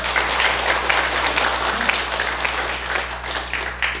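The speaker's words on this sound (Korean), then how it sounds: "박수 한번 보내주세요" An audience at a Buddhist temple lecture gives a steady, full round of applause that holds at an even level throughout, over a low constant hum.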